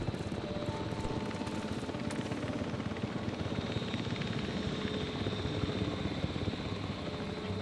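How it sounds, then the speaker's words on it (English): A helicopter arrives in the park-building game Jurassic World Evolution 3, its rotor chop a steady, dense whirr that holds at a moderate distance throughout. "Attention personnel. Please stand by for the returning helicopter."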